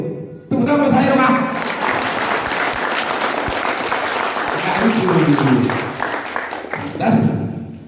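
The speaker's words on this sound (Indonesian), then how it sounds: "Itu tepuk tangan saya Pak." Sustained applause from a gathering at a communal fast-breaking event swells and continues for several seconds, with voices talking and calling out over the clapping.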